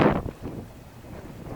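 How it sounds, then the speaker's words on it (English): Extreme wind buffets a medical tent, opening with a loud rushing gust that quickly drops to a low, rumbling bluster. "this eerie film of a medical tent blowing around in extreme wind"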